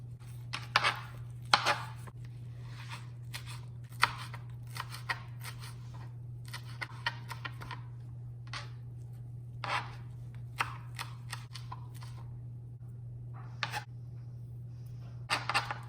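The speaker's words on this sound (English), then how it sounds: "let's chop this cilantro in fine chop" A knife finely chops cilantro on a board in quick, irregular clusters of crisp taps close by, over a steady low electrical hum, with no voice.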